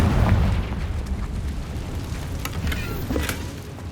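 A Confringo blasting spell explosion in the Hogwarts Legacy video game, a heavy low boom that rumbles and fades over a few seconds, with scattered crackles and debris pops.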